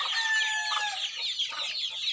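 A gamecock rooster, sire of a straight-comb pumpkin line, clucks and calls close by in a short, shrill burst of rapid squawks, loud and alone with no talking.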